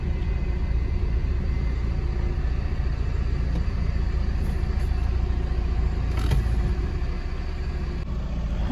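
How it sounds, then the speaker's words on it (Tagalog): A truck rumbles along nearby with a heavy, steady low engine drone that holds close and loud throughout, a few brief clicks and knocks over the top. "Yung truck na yan."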